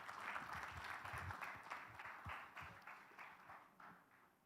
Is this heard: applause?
yes